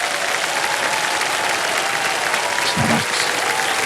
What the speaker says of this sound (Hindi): तालियां मजदा इनके लिए।